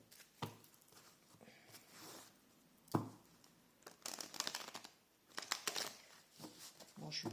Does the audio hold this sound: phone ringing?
no